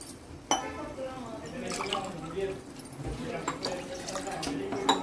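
A tumbler of water poured into a pan of frying minced mutton, splashing and trickling with sizzling and clinks, while a person talks over it.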